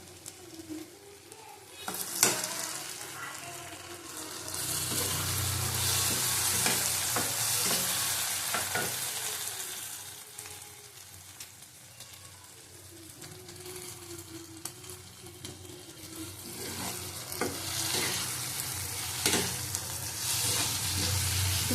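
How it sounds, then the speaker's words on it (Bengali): Pointed gourd (potol) chicken curry stirred and fried in a pan, a continuous loud sizzle with repeated spatula scrapes and clinks against the pan across a long stretch, swelling and easing; no talk. "আবার একটু কষিয়ে নেবো ভালো করে দেখো এর মধ্যে পটলগুলি দিয়ে দেবো"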